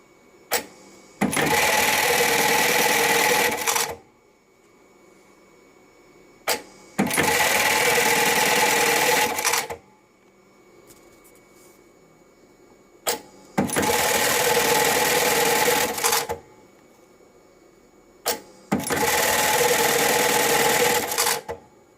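A JACK JK-T1900BLX electronic tacker running at speed 1200, four loud bursts of rapid, even machine stitching, each about three seconds long, separated by short quiet pauses with faint clicks.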